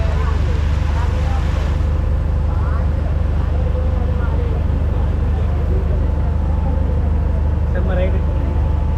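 A passenger boat's engine drones loud and constant during a cheap hour-long ride, a steady low rumble with wind and faint voices mixed in beneath it.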